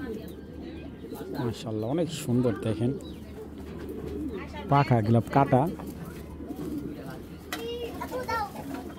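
Male China Kaki pigeons coo softly in a low, steady murmur beneath someone talking at close range, with children's voices briefly in the background.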